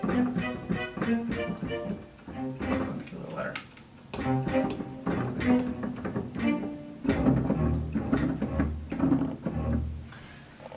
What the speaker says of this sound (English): Also, strings playing with their bows.